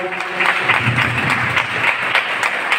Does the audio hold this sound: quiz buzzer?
no